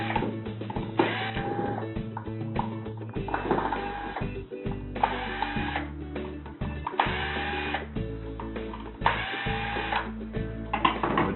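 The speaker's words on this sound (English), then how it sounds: "I've attached it to my cordless drill, which makes it an awful lot easier" A cordless drill removing screws from a Jobe valve whirs in repeated short bursts, spinning up and stopping several times, loud and close, with faint mechanical clicks between runs.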